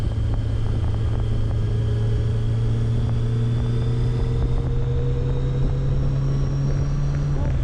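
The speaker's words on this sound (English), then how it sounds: "this is just me out on the bike," A Kawasaki Voyager 1200 motorcycle cruises down the road with a steady engine drone, its pitch rising slowly as it accelerates, mixed with constant wind and road noise.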